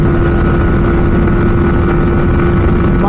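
A Bajaj NS200 and a Yamaha R15 race at top speed, giving a loud, steady engine roar with a sustained high-revving drone and constant rushing wind, unbroken for the whole stretch with no talk.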